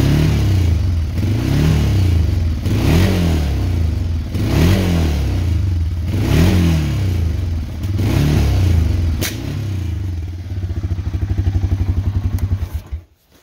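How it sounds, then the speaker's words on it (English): 1990 Honda Fourtrax 300 ATV engine that idles but cuts out under throttle, giving a series of close, loud revs that rise and fall, then a sputtering stumble before it dies. "when you run it, it idles fine, but when you add throttle,"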